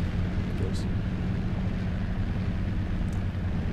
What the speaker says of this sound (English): I really like the droning noise of the helicopter that this sound mod gives.